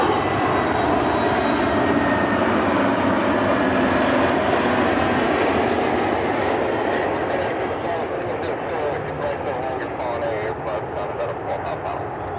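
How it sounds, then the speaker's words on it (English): An Aer Lingus Airbus A321 airliner inbound from Dublin roars loudly and steadily at Cleveland Hopkins airport, its jet engine noise filling the whole stretch and easing off slightly toward the end. "Like the Aer Lingus A321,"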